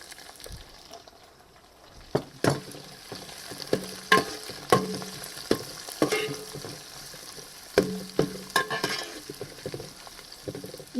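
Two large onions frying in a pan for a Mysore white chicken pulao, a soft steady sizzle broken by repeated sharp clacks and scrapes of a spoon stirring, close and fairly quiet, no voices.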